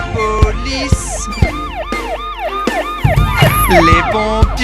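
A wailing police siren sweeps up and down repeatedly over a loud children's song with thumping beats, prominent and continuous throughout.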